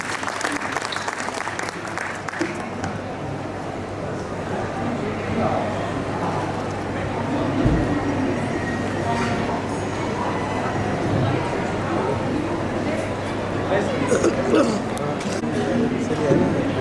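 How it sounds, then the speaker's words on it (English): Audience applause at a book launch at a world book fair, steady dense clapping from a crowd lasting throughout, with some voices mixed in. "So huge round of applause."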